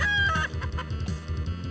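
Chickens clucking in the video game Die Reise ins All, a short burst of close, rapid bawk-like clucks with a squawk at the start, playing over a low background rumble.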